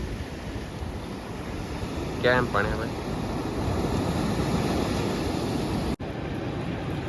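Sea waves wash and splash around a boat under a steady roar of wind and water, with a short burst of voice partway through and a sharp click near the end.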